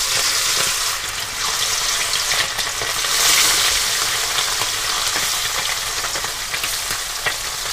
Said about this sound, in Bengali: এবার আমি মাছগুলো এক এক করে ভেজে নেব সব।